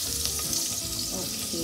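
Whole cardamom, cinnamon and cloves fry in hot oil for a vegetable biryani, giving a steady close sizzle with faint clinks and watery crackle; a voice murmurs briefly in the background.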